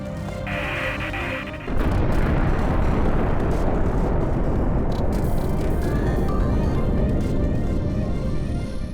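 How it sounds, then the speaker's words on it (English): A volcanic plume eruption of liquid nitrogen on Enceladus, rendered as a sudden deep, broadband roaring rumble that bursts in after a quieter tonal stretch and sustains loudly to the end. "Backlit by the sun, a gigantic plume bursts out into space, a sure sign of volcanic activity."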